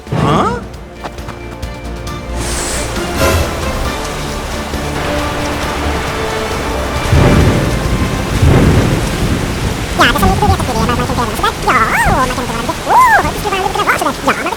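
Heavy rain pours continuously in a Chennai storm, with rolling, loud thunder rumbling through; voices are faintly audible beneath the downpour.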